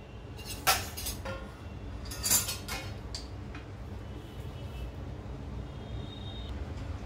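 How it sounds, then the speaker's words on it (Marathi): Roasted lentils being tipped from a pan onto a plate, a few sharp metallic clinks and scrapes early on, then a quiet rustling patter, close and with no voices. "आपण ही डाळ काढून घेऊया ताटामध्ये"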